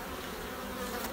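Honey bees buzzing around beehives, a dense, even drone of many insects close by, steady and unbroken through the short stretch.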